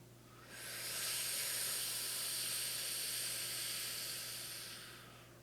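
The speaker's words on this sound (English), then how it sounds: "So let's go ahead and take a deep breath in." A single long, deep breath drawn in during a guided breathing exercise, a close, airy hiss that swells quickly, holds steady for several seconds, then fades.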